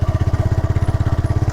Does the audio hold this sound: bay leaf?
no